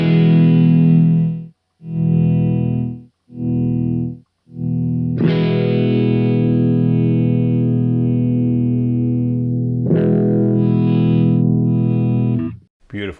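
Ibanez DG555 Destroyer electric guitar played through effects, a few short chorused chords followed by long sustained ringing notes with reverb, loud and clear with no talking.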